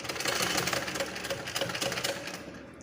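A sewing machine stitches pleats into doubled blouse cloth, running as a steady, close, loud mechanical whir with a fast rhythmic needle clatter throughout, briefly easing at the end.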